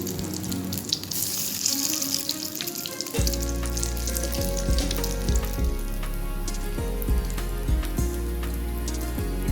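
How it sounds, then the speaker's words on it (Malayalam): Aval (poha) bonda fry in hot oil, a dense, close, crackling sizzle that runs throughout and grows louder and fuller after a few seconds, with a low steady hum underneath. "ഞാൻ എണ്ണ ചൂടാക്കിയിട്ട് അതിലിട്ട് കൊടുക്കുന്നുണ്ട്"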